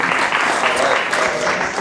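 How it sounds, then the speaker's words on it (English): A crowd at a university performance event in a hall breaks into sustained applause, a continuous wash of many hands, with some voices mixed in throughout. "can I get that round of applause?"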